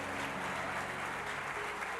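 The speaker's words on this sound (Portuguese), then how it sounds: "Aplauda o Senhor." Congregation in a church applauding the Lord, a continuous wash of many hands clapping, even and sustained, heard at a distance and fairly quiet, with music or hum underneath.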